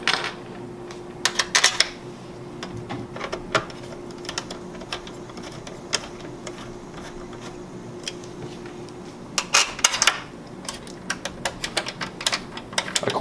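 Screws being driven by hand with a screwdriver into an Xbox One optical disc drive: sharp clicking and ratcheting ticks in uneven bursts, with two denser clusters of rapid clicks, close and fairly loud, with no talking.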